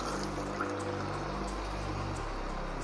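Soaked chickpeas are tipped into a cooking pan, giving a soft, continuous wet pouring and sizzling wash that stays fairly quiet and even throughout, with no one speaking.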